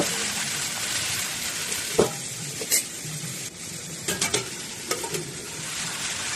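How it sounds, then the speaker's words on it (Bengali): Potatoes and Malabar spinach cooking in a covered pan, with a steady close hiss and sizzle throughout, broken by a few soft knocks and clinks of the lid or utensil, no talking. "সব কিছু দিয়ে ঢেকে আমি 2 মিনিট রান্না হতে দেব।"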